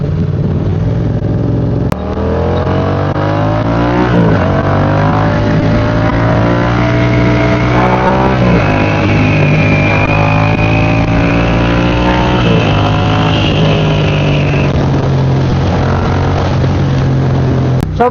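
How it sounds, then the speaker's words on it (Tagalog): Loud, steady wind roar while riding a BMW F900R motorcycle at speed on the SLEX expressway, continuous throughout with the engine droning and shifting pitch underneath. "Sobrang lakas ng hangin."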